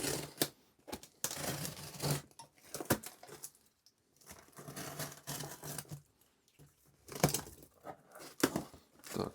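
A parcel from a subscriber being opened by hand, its packaging tearing and crinkling in bursts of close, dry rustles and rips separated by short pauses.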